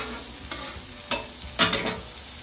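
Small broccoli pieces sizzle in leftover beef fat on a flat hibachi-style griddle, a soft, steady sizzle broken by a few short scraping stirs, with no talking.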